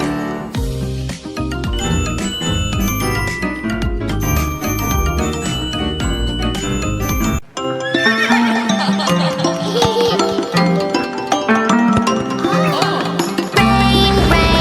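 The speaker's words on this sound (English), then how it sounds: "Neigh, neigh, the horses say." Horse neighing effect in a children's nursery rhyme song, a whinny mixed with jingling bells over loud, busy music.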